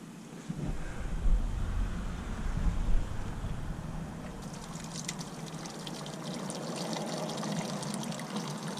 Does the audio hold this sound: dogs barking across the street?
no